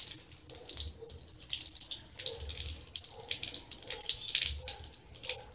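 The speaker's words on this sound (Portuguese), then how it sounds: "Aí às vezes eu ligo a água e vou passando desse jeito assim" Tap water runs in a slow, steady stream over makeup brushes being rinsed at a sink, a continuous close splashing hiss with brief shifts as the brushes pass under it.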